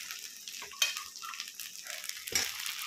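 Paneer fries in a pan with ginger, garlic and tomato, a steady hiss of sizzling oil broken by a couple of sharper stirring scrapes, close and fairly soft.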